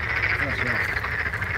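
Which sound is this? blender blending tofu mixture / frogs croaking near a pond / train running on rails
frogs croaking near a pond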